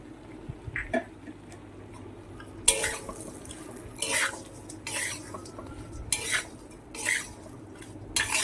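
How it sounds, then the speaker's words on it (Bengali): Fried bread pieces being stirred into a spiced masala in a pan, a few distinct scraping and clattering strokes of a utensil against metal spaced over a quiet kitchen background with no talking. "এবার আমি ভেজে রাখা ব্রেডগুলো এর মধ্যে দিয়ে দেব"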